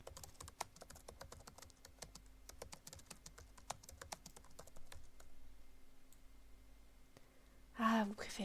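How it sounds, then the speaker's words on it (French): Steady clicking of computer keys as office ambience, a quick irregular patter of taps close by, with a brief louder sound near the end. "Le clavier est là pour vous."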